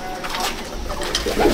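Racing pigeons in a home loft give soft, low coos in a short burst, fairly near and without talk over them.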